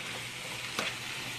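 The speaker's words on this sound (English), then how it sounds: "let that cook, and the onions are sweating, which is really nice" Onions and peppers frying in a pan for four-bean turkey chili, a steady soft sizzle with a brief louder crackle midway, no voices.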